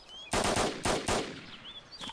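M4 rifle gunshots in DayZ Standalone, a quick burst of three loud, sharp cracks followed by a fainter fourth shot, with faint bird chirps in the background.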